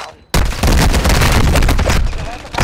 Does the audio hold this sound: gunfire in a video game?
yes